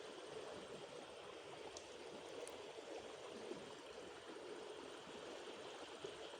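A rocky stream in Laos flows steadily toward the Mekong River, giving a continuous, even rush of water that stays at one level throughout with no voices.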